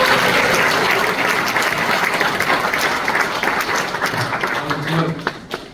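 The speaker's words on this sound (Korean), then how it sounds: "힘내시라고 큰 박수" Big round of applause from a congregation at a church dedication and founding service, loud dense clapping that holds steady and then thins out, with a few voices emerging near the end.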